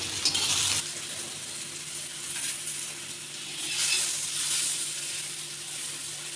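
Softened okra (bhindi) fries in a kadai with a steady, close sizzle and soft bubbling hiss that swells and eases across the whole stretch.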